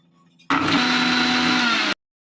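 An electric kitchen blender grinds a mojito in one loud, steady burst of about a second and a half, starting and stopping abruptly after a quiet lead-in.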